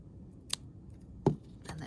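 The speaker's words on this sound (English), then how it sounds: "And then you're gonna cut it off when you get to the place where you started." Scissors snip close by during a craft of decorated bottle brush trees: two or three short, crisp cuts spaced apart, with quiet background between them.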